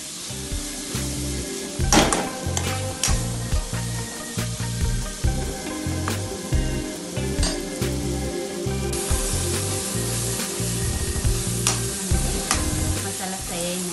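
Spiced masala for pav bhaji sizzles in hot oil in a pan while a spoon stirs and scrapes it in a steady rhythm, close and fairly loud, with no talking.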